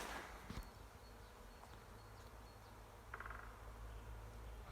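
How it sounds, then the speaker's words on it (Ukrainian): A faint, steady hum of bees swarming around a flowering tree outdoors, soft and distant, with a few small rustles and clicks nearby. "Гуде як біля вулика"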